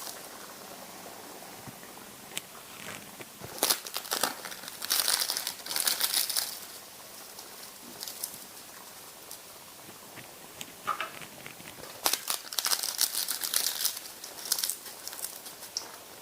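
Appalam (papad) is snapped and crumbled by hand into simmering kuzhambu, producing brittle crackling and crunching in two busy bursts separated by quieter moments, close and fairly crisp.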